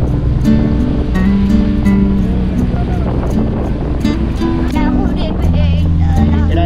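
Steady, loud roar of sea waves washing onto a beach, with wind noise and people's voices mixed in throughout.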